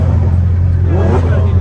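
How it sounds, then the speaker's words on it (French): A Bugatti Chiron drives on the autobahn during a road rally, its steady low engine rumble and road roar filling the cabin at close range. "On n'entend que la voiture."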